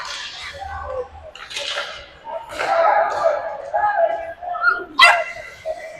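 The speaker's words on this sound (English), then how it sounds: "Even the dog's getting upset by this." Dog at a youth hockey game barking and whimpering in short excited yips and whines, several loud bursts close to the microphone, mixed with human voices.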